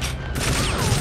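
Rapid gunfire from a custom-built gun in the video game TimeSplitters: Future Perfect: a dense, continuous burst of shots, loud and close throughout, with no talk.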